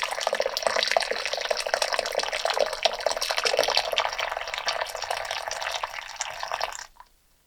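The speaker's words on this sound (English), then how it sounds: "And then I add hot boiling water into the bowl." Hot boiling water pours steadily into a bowl for about seven seconds, a continuous near splashing stream with no talk, then stops abruptly.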